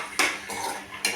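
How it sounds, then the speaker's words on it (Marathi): A spoon scrapes and clinks against a pot while roasted eggplant mash with tomato is stirred, two sharp metallic strokes with a softer scraping sound between them, close up. "हलवून घेऊ."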